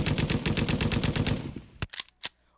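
Rapid automatic gunfire from a sound effect rattles in a fast, loud burst, then tapers into a few sharp mechanical clicks and clacks of a weapon being reloaded.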